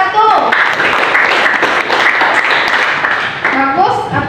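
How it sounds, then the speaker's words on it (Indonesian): Applause from a classroom audience for a student group that has just finished presenting, a dense, steady burst of many hands clapping that fills the whole stretch, with a few voices briefly over the start and end. "Ya, tepuk tangan untuk kelompok 1."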